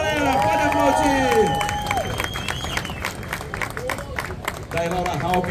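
A crowd at the Saquarema Surf Festival 2024 awards ceremony applauds and cheers, steady clapping and shouts while a voice speaks over the noise and brief tonal calls and whistles rise early on.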